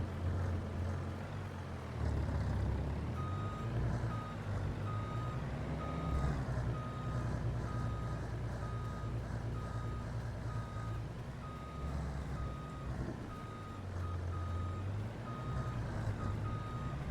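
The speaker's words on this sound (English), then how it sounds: "I forgot to turn the reverse beep off on that thing." A farm truck's reverse alarm beeps steadily in a regular repeating rhythm, set over a low, continuous engine rumble from the vehicle, with no talking.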